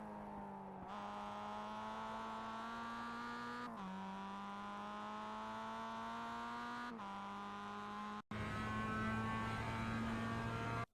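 Mazda MX-5 race car engine in iRacing at Oulton Park, a steady rising whine climbing through several gears with brief dips at each shift and a louder stretch near the end.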